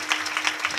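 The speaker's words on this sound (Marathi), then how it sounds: "सगळ्यांसाठी यांच्यासाठी जोरात टाळी वाजवा" An audience at a Marathi kirtan in Shetphale claps together, a dense, steady patter of many hands applauding at moderate distance, brief and continuous.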